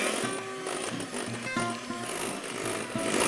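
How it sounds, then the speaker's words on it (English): Caster sugar is whisked in batches into a chocolate mousse mixture being beaten toward stiff peaks, making a steady, close whirring and rattling churn throughout. "I'm just going to add it in batches to this and continue whisking"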